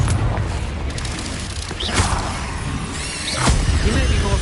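Confringo blasting spell explosion in the Hogwarts wizarding video game, loud booming blasts and whooshing crashes amid dense combat noise, with a voice calling out over the action.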